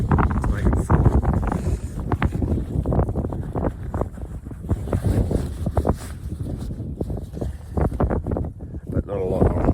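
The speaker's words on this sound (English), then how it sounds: "it's actually quite cold now with this wind" Cold wind blows outdoors on a hiking circuit, buffeting the microphone in loud continuous gusts while someone talks.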